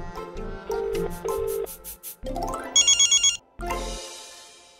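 Telephone ringing on speakerphone in a household comedy scene: repeated electronic ring tones in several bursts over a few seconds, fairly loud and close, with no talking.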